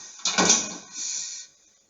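A door swings shut on its own in a house, with a soft thud and brief rustle followed by a fainter drawn-out creak that fades to quiet.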